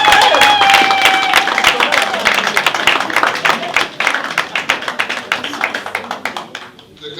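At an investiture ceremony in Belgium, a crowd claps loudly and steadily as an official is called up, with a few whistles early on and a faint voice underneath before the clapping thins out at the end.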